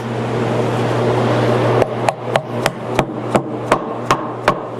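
Glued wooden dowels are tapped into the joints of a mid-century modern desk during restoration. About nine crisp, evenly spaced knocks sound close by over a steady background hum.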